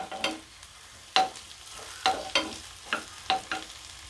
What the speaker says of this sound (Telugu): కట్ చేసుకున్న ఆనియన్, గ్రీన్ చిల్లీ వేసుకోవాలి. ఆనియన్ లైట్గా ఫ్రై అయితే సరిపోద్దండి.